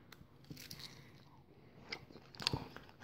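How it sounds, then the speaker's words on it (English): Meat being eaten up close, with soft chewing and mouth sounds and a couple of sharper bites near the end, quiet and intimate with no talking. "I'm just going to eat it, and you guys are going to have to listen to me"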